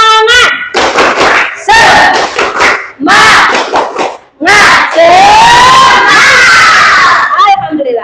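A class of schoolchildren led by their teacher chant loudly in bursts with sharp claps between phrases, shouting energetically together.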